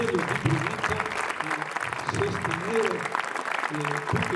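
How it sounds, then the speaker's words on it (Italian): Audience applause at an Italian book presentation honoring a local choir supporter, steady clapping throughout with voices talking over it and a crowd murmur underneath. "facciamo un grandissimo applauso per l'impegno di Brunetto a sostenere tutti questi coristi"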